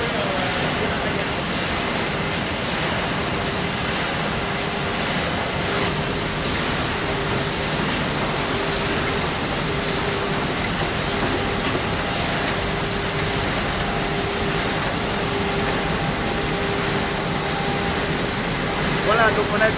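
A sugar cane mill crushes previously broken cane while a water jet sprays it, making a loud, continuous broadband rush of water and machinery with a steady mechanical hum underneath and a voice faintly over it.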